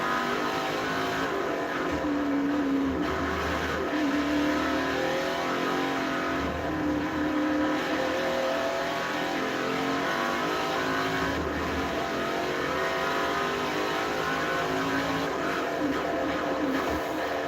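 Panoz Esperante race car engine in Forza Motorsport 4 on Xbox 360, a loud continuous engine drone with shifting revs and gear changes, sustained without pause through a lap.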